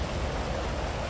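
Rain falling in GTA 5, a dense steady hiss of downpour filling a brief moment with no voices.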